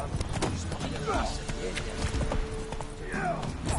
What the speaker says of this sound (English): Baron's horses. They're running rampant.